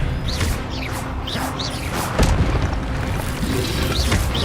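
Spells are cast in the video game Hogwarts Legacy, with whooshes, thuds and a loud magical boom over a dense, constant layer of combat sound effects.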